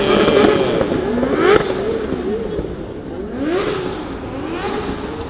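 A car revving and drifting on a street in Shibuya, Tokyo, during a festival: loud sweeping engine whines that rise and fall over a noisy crowd background with sharp bangs, and no clear talk.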